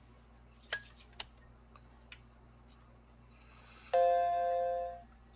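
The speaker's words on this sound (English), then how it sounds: "I hear a chime." A single electronic chime rings out clearly over a quiet workbench during home electronics repairs, a sustained tonal ding that fades over about a second, preceded by a few faint clicks and taps.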